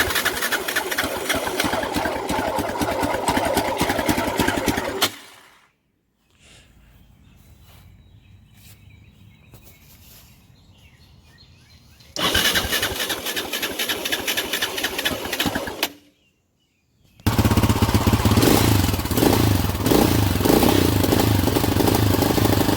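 2005 Yamaha Raptor 660 quad idling with flooding carburetors, a loud rough engine clatter that drops out and returns twice, in close, steady stretches.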